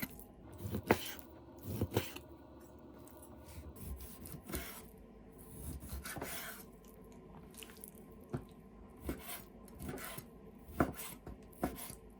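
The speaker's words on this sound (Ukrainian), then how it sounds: "М'ясо порізати теж дрібними шматочками." A knife chops chicken breast into small pieces on a cutting board in a dozen or so uneven thuds and taps, moderately close, with no talking.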